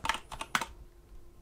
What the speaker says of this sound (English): all we need to do is type in FurtiveX